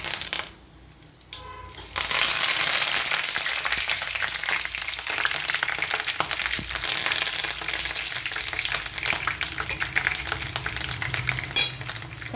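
Curry leaves hit hot oil in a pan after a brief hush, setting off a loud, close burst of crackling sizzle that settles into steady spitting and frying, with no talk.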